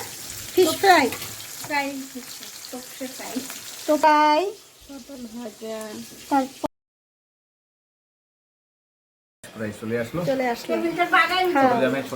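Fish fries in a pan with a soft background sizzle, largely covered by a person talking over it, with a brief silent gap partway through.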